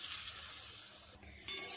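Banana fritters fry in oil over a low gas flame, a soft, fairly quiet sizzle with a brief clink of a utensil near the end.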